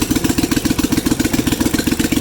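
A Bolens QT16 garden tractor's engine runs loud and close, a steady, fast pulsing throb that drives on without a break.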